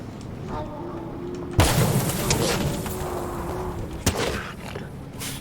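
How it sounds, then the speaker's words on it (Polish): A truck tire bursts with a sharp bang in the Fortnite video game, followed by a second, quieter pop a few seconds later, over steady engine rumble and game noise. "Aha, dlaczego mi koło wybuchło?"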